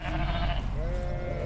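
A sheep bleats twice in a field during outdoor lambing in stormy weather, a wavering call near and clear over steady wind rumble.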